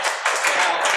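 Short burst of audience applause, many hands clapping close together in a quick, dense patter for about a second, loud and without talk.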